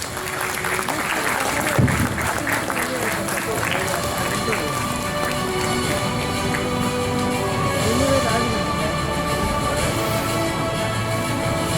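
An audience at an inauguration ceremony welcomes dignitaries with sustained, dense clapping that runs steadily throughout, mixed with voices and other sound from the hall.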